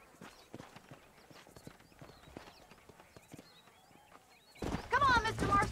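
Horse hooves clip-clop in the Red Dead Redemption video game, a steady run of light, close knocks that ends in a louder burst of in-game talk.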